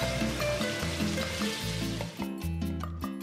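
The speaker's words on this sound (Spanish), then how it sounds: "salpimentamos, doramos la carne y reservamos" Meat browning in a hot pan, a steady close sizzle and crackle of frying with faint stirring scrapes, alone and without talk.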